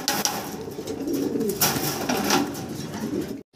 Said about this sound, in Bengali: অনেক সুন্দর, বড় সাইজ টানা পায়ের কবুতর একদম